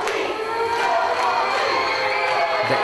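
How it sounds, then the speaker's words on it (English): An excited crowd at a wrestling event cheers in a steady, dense roar, with no single voice standing out. "And just listen to the crowd."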